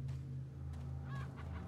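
A chicken clucks in the Resident Evil 4 village, with short, close fowl calls over a steady low hum of game ambience.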